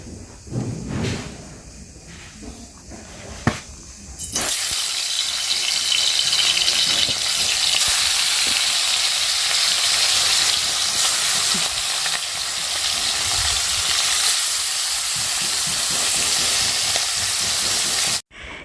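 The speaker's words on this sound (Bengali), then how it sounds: "এখন মাছটা ভাজা করব এই যে উনুন ধরে গিয়েছে আমার আর তেলটাও গরম হয়ে এসেছে" Fish dropped into hot oil on a clay stove bursts into a loud, steady sizzle that fills the scene after a few seconds of quieter handling sounds, with no talking.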